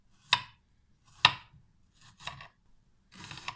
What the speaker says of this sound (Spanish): Vamos a cortar un poquito de cebolla.